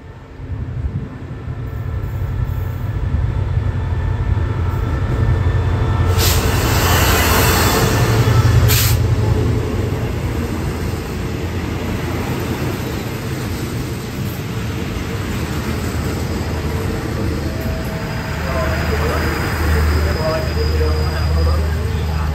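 Southern line train rolling past Salaya station in Thailand, a loud sustained rumble of wheels and wagons with rattling and faint squeal, steady throughout with a brief high whine midway.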